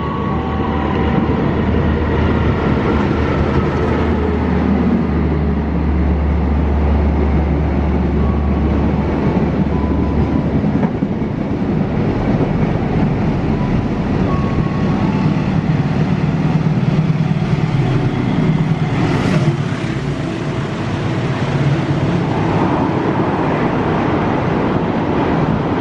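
Indonesian KA Berantas passenger train, a long extra holiday consist, passing close by with a loud, continuous rumble of wheels and carriages throughout, no voices.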